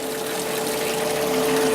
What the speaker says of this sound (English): So this is the press in full swing now, and you can hear how much